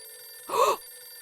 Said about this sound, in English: this is a bad time for the phone to ring